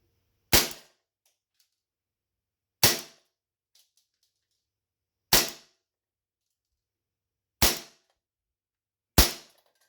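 An Umarex HK MK23 gas blowback airsoft pistol, loaded with green gas and 0.2 gram BBs, fires five sharp, close cracks spaced a couple of seconds apart, with near silence between shots.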